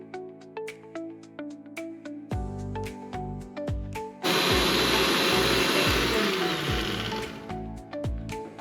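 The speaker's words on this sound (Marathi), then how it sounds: "आता आपण मिक्सर मध्ये बारीक करून घेऊया।" An electric mixer grinder grinding roasted spices roars in about halfway through as a loud, harsh whir and stays steady to the end, after a quieter opening with other background sounds.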